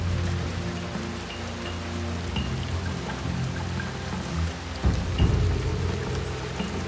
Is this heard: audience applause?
no